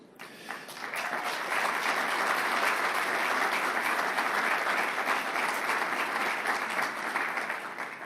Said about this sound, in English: Shamelessly fishing for applause.